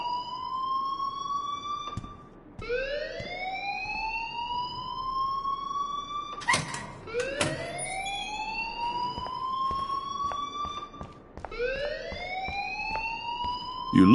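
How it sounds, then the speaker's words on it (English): Fire alarm in the video game Life is Strange: a loud electronic siren repeating rising whoop tones in a steady cycle, with sharp clicks between sweeps and no voices. "please turn off that alarm since that's your job"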